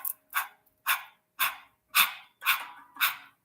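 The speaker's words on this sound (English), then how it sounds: "stick out your tongue, which is, if you're not used to this breath, it'd be the easiest, and it looks silly, like a dog panting" During a yoga breathing exercise, a person pants with the tongue out, giving seven sharp, breathy exhales at an even, quick rhythm. Each one is close and clear, with silence in between, and sounds much like a panting dog.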